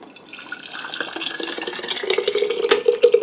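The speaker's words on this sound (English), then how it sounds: "So the rest I think I'm just going to pour in here carefully." Leftover soup pours steadily into a jar, the gurgle rising in pitch as it fills, ending with a few bubbly splashes.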